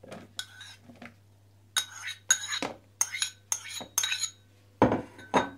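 Bright clinks and scrapes of a utensil against a container, in short irregular bursts, as pickled mushrooms, cucumbers and onion for a potato salad are moved into a separate container.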